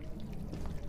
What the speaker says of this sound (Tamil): மேல கக்கூஸ்ல இருந்து ஏதோ உடைஞ்சு ஒழுகுது ப்ரோ